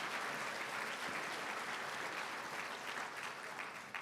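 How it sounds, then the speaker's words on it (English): Audience applause for honorees at an awards event, a dense, continuous wash of many hands clapping at steady loudness throughout, with no break. "Round of applause for our third age leaders."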